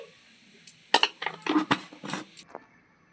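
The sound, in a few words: grinding mustard seeds, green chillies and salt into paste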